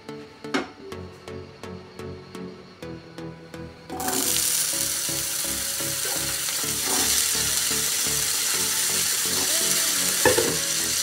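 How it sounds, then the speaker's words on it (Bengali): Potatoes dropped into hot mustard oil for a Bengali banana-stem dish: a few seconds of quiet tapping and clinks, then a sudden loud burst of sizzling that settles into a steady close crackle with occasional stirring knocks. "প্রথমেই একটু সরষের তেল দিয়ে দেবো। আলুগুলোকে আগে ভেজে তুলে নিতে হবে।"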